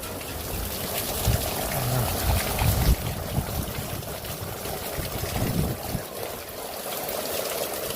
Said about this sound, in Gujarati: ફૂલ ભાઈ વરસાદ ચાલુ થઈ ગયો છે પવન સાથે